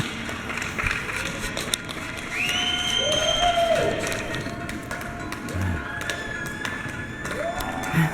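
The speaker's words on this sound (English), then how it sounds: "She came out to clap." Manhattan residents on the Upper West Side clapping and cheering from their homes at 7 o'clock, a steady far-off wash of applause and whoops echoing between buildings, with a voice speaking nearby.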